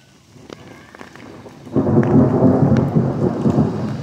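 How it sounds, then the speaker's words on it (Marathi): Rumbling thunder rolls through heavy first-monsoon rain, starting faint and swelling into a loud, sustained low roar with rain pattering throughout and no voices. "त्याला गडगडते"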